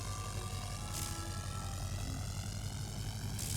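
Scout plane flying overhead in a WWI trench warfare video game, a steady propeller-engine drone throughout with faint speech beneath it.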